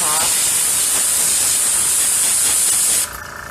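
An aerosol can sprays in one long, loud hiss close to the microphone for about three seconds, then cuts off.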